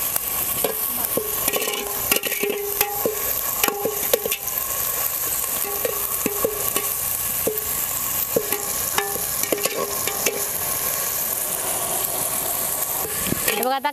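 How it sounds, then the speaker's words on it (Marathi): Onion and tomato fry with salt in a pan, a steady loud sizzle running throughout, punctuated by repeated clinks and scrapes of a spoon stirring against the metal. "मीठ हां, म्हणजे लवकर मऊ होते टमॅटो, कांदा वगैरे सगळं. चांगलं भाजून घेऊया."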